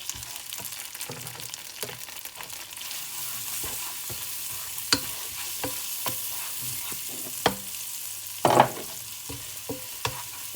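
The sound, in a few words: stirring meatball curry in a pan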